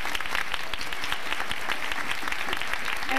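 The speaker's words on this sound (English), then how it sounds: "I think that deserves a round of applause" Audience applause fills the room at a school winter festival, the twentieth annual event, with a dense, steady wash of clapping from a sizable crowd throughout.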